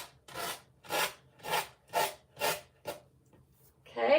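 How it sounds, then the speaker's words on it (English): Very coarse sandpaper rasps over a surface in seven even back-and-forth strokes, close and fairly loud, with short gaps between them. A brief bit of talk follows at the end. "I have a very coarse sandpaper."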